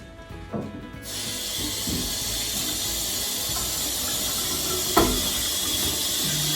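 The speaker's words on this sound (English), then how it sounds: "wash his hands to make sure everything is clean" Tap water runs steadily into a kitchen sink while hands are washed for cooking Jamaican curry goat, a close, continuous hiss that starts after a brief quiet moment, with a few faint knocks.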